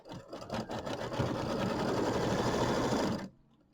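Sewing machine stitching down a pieced quilt block, a steady, fast needle whir running continuously for about three seconds before it stops, close and fairly quiet.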